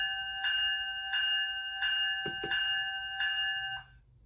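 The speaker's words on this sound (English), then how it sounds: "the next function is the bell on function 1" A Walthers ES44AC model locomotive with DCC sound rings its bell, a bright metallic clang repeating at a steady, even pace for about four seconds, with a couple of short clicks partway through before the ringing stops.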